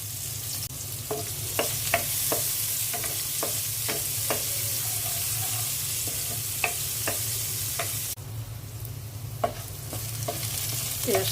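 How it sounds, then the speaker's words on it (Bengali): Onions frying lightly in a pan for a fish and vegetable curry, a constant close sizzle broken by occasional taps and scrapes of a stirring utensil, with no voices. "পেঁয়াজটা হালকা ভেজে নিলাম"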